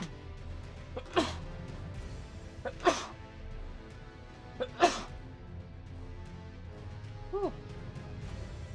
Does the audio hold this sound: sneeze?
yes